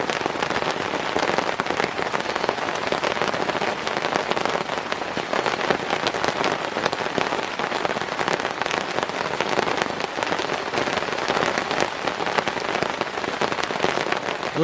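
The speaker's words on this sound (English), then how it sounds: "Listen to that rain come down" Heavy rain pounds down steadily on the woods at night, a dense, continuous hiss and patter of drops close around with no letup and no voices.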